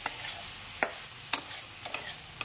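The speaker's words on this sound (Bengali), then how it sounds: "একটু ভাজা ভাজা করতে হবে।" Spinach, eggplant and potato fry quietly in a pan while a spatula stirs them, giving a low hiss broken by four or five sharp scraping knocks at uneven intervals, with no voices.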